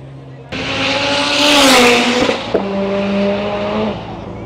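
Race cars lap the Goodwood track, one close car sweeping past with a rising then falling engine note, loud and near, a brief tyre chirp midway, then another engine tone holding steady as it pulls away.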